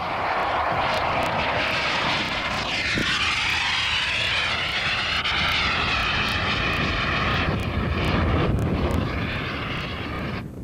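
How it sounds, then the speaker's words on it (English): A high-pitched radio-controlled model jet engine whine roars steadily overhead at high speed, its pitch sweeping as the model passes, loud and continuous throughout. "At full power, the engine's spinning some 5 or 8 times faster than a model propeller engine"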